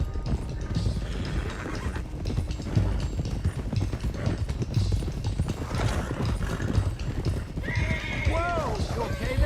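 Horses in the Red Dead Redemption 2 game galloping in a dense, rapid clatter of hooves, loud and close throughout, with a neigh breaking out near the end; voices talk over the hoofbeats.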